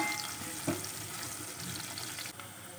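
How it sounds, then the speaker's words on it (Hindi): Onions and green chillies fry in a pan with a steady soft sizzle throughout, plus a brief stir or clink early on, heard alone without talk. "अब इसको हम तलेंगे।"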